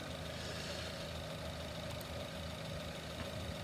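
A Honda car engine idles during scope testing of its canister purge solenoid, giving a steady, unbroken low mechanical hum with faint rapid ticking, heard close and alone with no talking.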